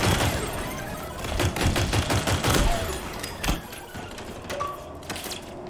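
Rapid bursts of automatic gunfire crackle in a Halo Infinite Firefight match, dense overlapping shots and impacts running almost the whole time, loud and busy with the clatter of combat.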